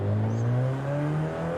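A car engine in Forza Horizon 5 revs upward under turbo boost, its rising drone climbing smoothly in pitch, loud and close, with no other sounds over it.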